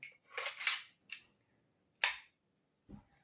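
A Tippmann toy pistol blaster firing .50 caliber foam balls gives sharp, close pops, a quick cluster of shots and then two separate ones, with quiet gaps between and no talking.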